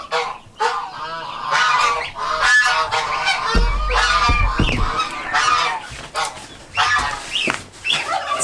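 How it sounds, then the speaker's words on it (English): Several geese and goslings honk loudly and repeatedly, with overlapping calls from a busy flock close by, including some higher, thinner peeps. "as you hear the birds in the background"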